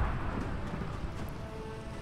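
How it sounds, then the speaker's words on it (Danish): Rain falls again outdoors as a steady, dense hiss that fills the whole moment, fairly loud and continuous, with no talking. "Og så begynner det å regne igjen."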